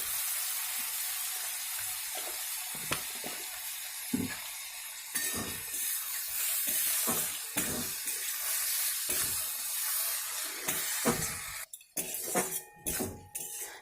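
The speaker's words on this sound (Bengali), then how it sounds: "এবার এই সমস্ত সবজিগুলো খুব ভালো করে ভেজে নেব।" Mixed vegetables frying in oil with salt and turmeric for fried rice, a steady close sizzle broken by repeated clinks and scrapes of a spatula against the pan, with sharper knocks toward the end.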